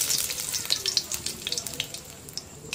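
Whole cumin seeds sizzle and crackle in hot oil for a fish dish made with canned fish, a steady close frying hiss with small pops throughout, no talk.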